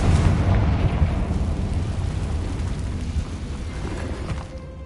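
Confringo spell exploding in the video game Hogwarts Legacy, a loud fiery blast with a rumbling, crackling burst that dies away over several seconds, with no talking.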